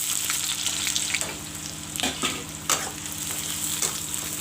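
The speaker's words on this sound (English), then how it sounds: "I will let the onions fry golden brown" Chopped onions with bay leaves sizzling in hot oil in a pan for mutton curry, a steady close crackle and hiss with occasional scraping stirs.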